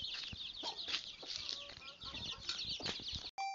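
A sick rooster clucks repeatedly and close by on a farm, its sharp calls scattered across a few seconds with no talking.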